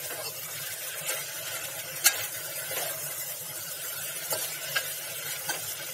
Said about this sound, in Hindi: अब हम इसमें कटहल डालते हैं। कटहल डाल के फिर अच्छे से मिक्स करेंगे।